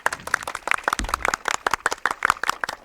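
An audience at a comedy play during a Republic Day celebration claps in a burst of applause, many sharp hand claps close together, fairly loud and steady throughout.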